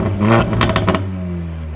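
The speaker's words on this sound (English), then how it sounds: "you can hear the crackles and the pops of this cars are amazing" Mercedes CLA45 AMG with an aftermarket exhaust, a short burst of sharp crackles and pops over an idling engine, close and loud, with a voice briefly in the mix.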